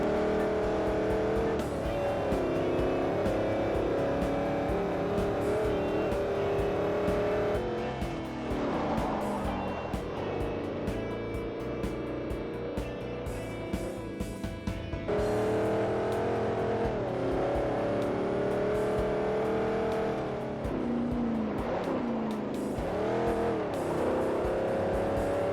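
A Buick GSX muscle car in the Forza racing game, heard from the in-car view: a loud engine drone rising and falling through revs and gear changes, with brief shifts in pitch as it accelerates and lifts.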